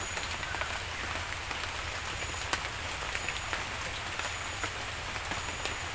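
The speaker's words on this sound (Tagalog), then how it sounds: "Pag lumakas ang ulan na yan mga kasinag" Heavy rain pours steadily onto surfaces outdoors, a dense continuous hiss with scattered sharper drop hits, loud and close with no voices.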